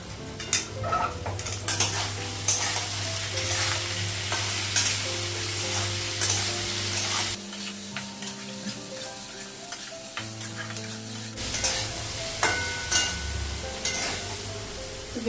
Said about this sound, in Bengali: সয়াবিন আর আলুটা একসঙ্গে ভাজবো।